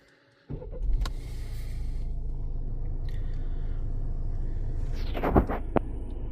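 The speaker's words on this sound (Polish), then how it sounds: "i uruchomimy pojazd teraz" Peugeot 508 GT-Line with a 2.0 BlueHDi diesel cranks and fires up, then settles into a steady low idle rumble heard from inside the cabin, with a few clicks and interior mechanical sounds toward the end.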